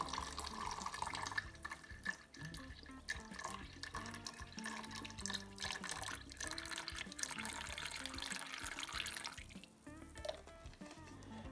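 Liquid Stock EM pours and trickles into a container of warm water, a steady close splashing with small drips and no talking.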